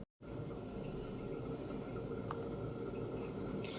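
Cauliflower paratha dough worked by hand, flour pressed into boiled, salted cauliflower filling without added water, giving a steady close squishing and slapping texture throughout.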